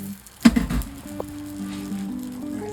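Unsalted butter hits a heated pan for a croque monsieur, a sharp initial sizzle burst that settles into a quiet, steady bubbling hiss, close and without voices.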